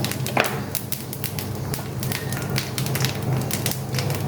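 Whole spices sizzling and crackling in hot oil alongside fried potatoes, a steady dense frying hiss with scattered pops throughout, close and continuous, no talking.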